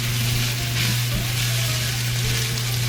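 Cabbage and tomatoes cook in a pot with a steady, soft sizzle and bubbling hiss that holds unchanged throughout, over a low constant hum.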